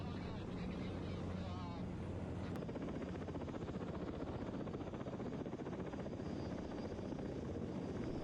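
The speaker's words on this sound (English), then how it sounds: "The helicopter maintained a stable hover" A heavy lift helicopter holds a stable hover during a tower section lift, its rotor producing a steady, distant throbbing drone with a constant level throughout.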